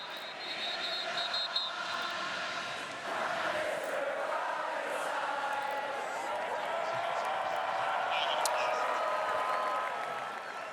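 A college football stadium crowd sings in a broad sustained swell, distant and reverberant, during the Florida State versus Notre Dame game, with a commentator talking over it throughout.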